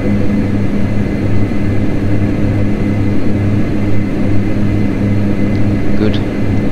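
Turboprop engines of a Dash 8 Q400 airliner in a flight simulator game: a loud, steady, droning hum with a low pulsing tone that stays constant throughout.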